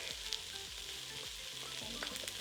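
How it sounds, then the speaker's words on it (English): Ginger and garlic sautéing in a pot for a coconut curry lentil soup, a faint, even sizzle with low rumbling pulses and a few light clicks, no voices. "And we're going to saute that for about 3 to 5 minutes until it is softened"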